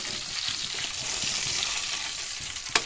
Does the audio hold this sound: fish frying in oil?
yes